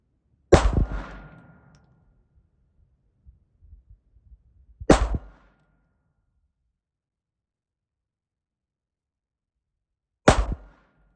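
Three sharp pistol shots from a Ruger Mark IV Hunter firing Armscor ammunition, each a crisp crack with a short ringing tail, spaced several seconds apart over near silence.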